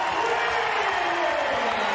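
Full-time cheering from the home crowd at a Dolphins versus St George Illawarra Dragons rugby league match, a steady distant roar of a large stadium crowd with scattered applause.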